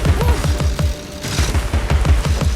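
Rapid rhythmic bursts of gunfire from a Linux PC video game as pepper bullets are shot, loud and repeated in a steady fusillade pattern with booming low thumps, no talk.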